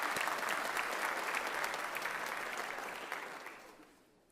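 Audience applause at a high school senior honors night: steady, dense clapping from a sizable crowd that gradually tapers off toward the end.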